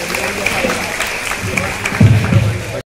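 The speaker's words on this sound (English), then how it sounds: "give a big round of applause to all the debaters present here" Audience applause after a school debate, a steady hiss of many hands clapping throughout, with a voice speaking over it toward the end before it cuts off abruptly.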